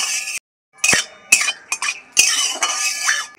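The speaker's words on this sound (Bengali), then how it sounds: "4টে এলাচ আমি ফাটিয়ে নিয়েছি, দিয়ে দিচ্ছি। তেলের মধ্যে একটু নেড়ে নেব।" A utensil stirs cracked cardamom pods in hot ghee in a wok, giving loud, close scraping and clinking strokes with a faint sizzle between them.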